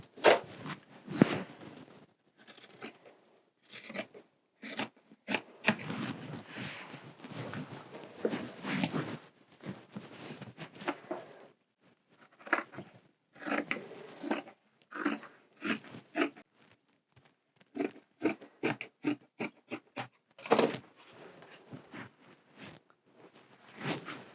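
Scissors cut fabric for a Christmas tree skirt, close by, in quick bursts of crisp snips and crunching strokes with short pauses between runs.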